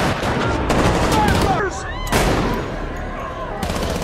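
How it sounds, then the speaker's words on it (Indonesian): A firefight between Fedra soldiers and Fireflies rebels in a city district in The Last of Us episode 1, with loud, dense volleys of gunfire and whistling, screeching tones cutting through a dramatic, rumbling mix. "Di tengah baku tembak,"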